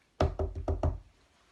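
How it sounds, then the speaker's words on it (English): Five sharp knocks on a cottage door, evenly spaced in a quick run, close and loud with a short hollow resonance, then silence. "Suddenly, Snow White, who was in the cottage, heard a knock."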